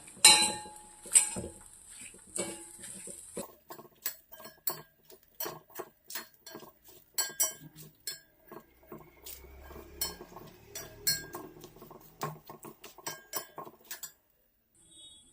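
A spoon stirs pappadam thoran with grated coconut, onion, curry leaves and chilli in a pan, giving irregular close clinks and scrapes against the metal at a loose rhythm, with quiet gaps between them.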